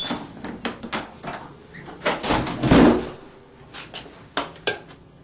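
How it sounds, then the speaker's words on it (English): A bathroom door is closed and locked at home, with clicks, knocks and rattling handle sounds in a small room, sharp bangs standing out among scattered clatter. "Locking the door."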